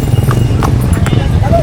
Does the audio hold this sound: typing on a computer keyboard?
no